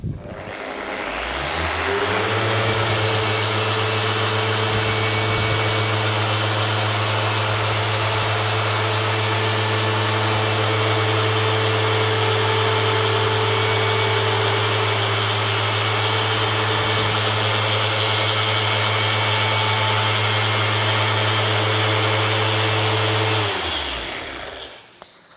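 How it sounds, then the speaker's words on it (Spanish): An orbital polisher buffs a section of a car body with a foam pad, spinning up to a loud, steady whine with a constant low hum that holds for about twenty seconds before winding down, with no talking. "Os lo voy a mostrar puliendo esta sección. Voy a subir la velocidad"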